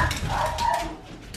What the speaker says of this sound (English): does Coco bark in the house? You hear that? Yeah, she does.